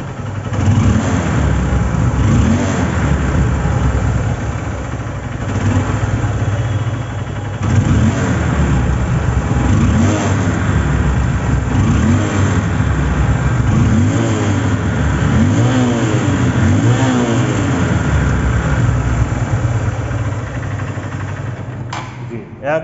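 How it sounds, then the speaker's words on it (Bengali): Honda CB Trigger motorcycle engine running up close, a loud continuous drone with repeated rises and falls in revs, while someone talks over it throughout. "হোন্ডা কোম্পানির সাউন্ডগুলো মিষ্টি সাউন্ড হয় এটা সবাই জানে।"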